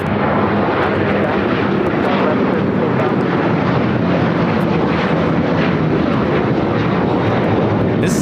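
An Alaska Airlines Boeing 737-900ER takes off at LAX, its jet engines producing a loud, steady, broadband roar that holds evenly throughout with no talk over it.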